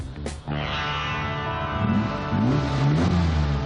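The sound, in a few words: Maserati Merak supercar driving up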